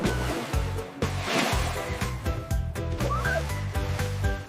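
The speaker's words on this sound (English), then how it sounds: "Dolphin is splashing." Cartoon dolphin splashing and clicking, a steady wash of watery splashes with whistle-like chirps running throughout, close and fairly loud over a bright musical backing.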